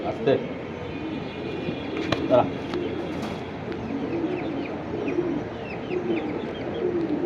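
Pigeons on sale at a market coo and flutter softly, their low calls repeating under a continuous crowded hum of voices and background noise.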